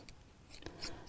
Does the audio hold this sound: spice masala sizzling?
no